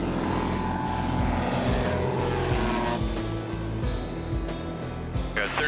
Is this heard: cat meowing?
no